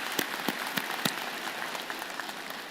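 Audience at a university spring convocation clapping for first-generation graduates: a steady wash of many hands with a few sharper individual claps standing out, heard from a moderate distance with no voices.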